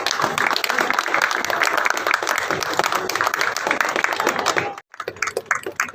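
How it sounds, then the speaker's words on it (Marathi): An audience claps steadily at a ceremony honouring elderly residents of a care home. The dense, lively applause runs for several seconds, breaks off sharply, then returns in scattered claps, with some voices mixed in. "मंडळी टाळ्या वाजव"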